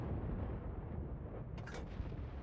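An artillery gun fires at a Cromwell tank in World of Tanks, a deep low rumbling boom that swells and decays over a quiet muffled background, no talking.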